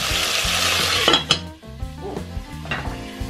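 Steaks browning in a hot Dutch oven give off a loud, close sizzle with a few metallic clinks of a utensil, and rhythmic music plays underneath.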